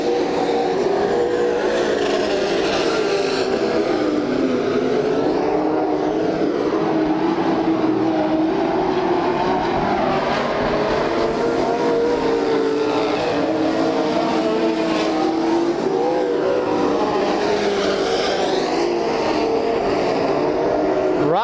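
Race cars at the Bakersfield, California track during a 1995 Budweiser Racing Series event make a loud, continuous engine roar that swells and fades as the cars circle, with several engines blending together.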